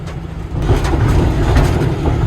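An M1085 5-ton military truck drives along a trail with a steady, loud, low rumble and broad road roar that continues without a break.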